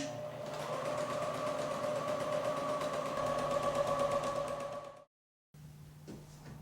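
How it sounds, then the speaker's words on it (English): A sewing machine runs steadily while stitching a quilt seam, holding an even mechanical hum with a rapid needle rhythm for about five seconds, then stopping briefly before a quieter whir resumes. "Sew the seam."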